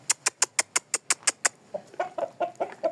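Chicks and chickens freshly brought in from the field, heard first as a quick even run of about nine sharp high peeps, then a cluster of lower clucks and chirps overlapping close by, with no talking.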